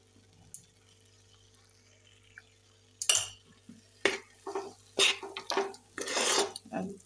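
Ground cashew powder and ghee are stirred in a pan, a spoon scraping and clinking against the metal in a few loud bursts after a quiet stretch, close and clear.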